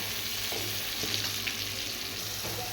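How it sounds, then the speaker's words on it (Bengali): Pieces of pointed gourd and potato fry in hot oil with a steady, dense sizzle and a few light stirring knocks. It sounds close and continuous, with no voices. "আমি একটু পটল আলুগুলো ভেজে নিই"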